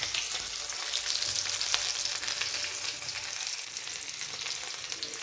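Onion and chili sizzling in hot oil in a pan, a loud continuous crackling hiss with scattered sharp pops and the occasional clink of a stirring utensil, with no voices.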